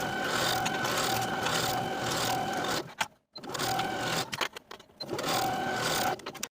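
A home sewing machine stitches a jacket's center back seam from top to bottom, running in a steady mechanical whir that stops briefly twice and then resumes.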